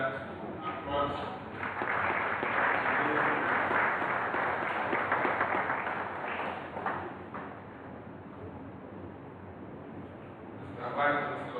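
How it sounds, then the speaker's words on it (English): A crowd at a university ceremony with a vice chancellor's procession claps steadily, a sustained wash of applause that swells and slowly fades, with a few louder bursts near the end. "I think we should put our hands together to applaud"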